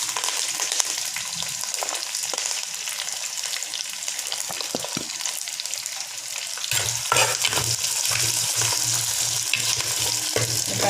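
Onions and curry leaves fry in a pan for chicken curry, a close crackling sizzle punctuated by stirring scrapes, growing louder and fuller partway through as the frying intensifies.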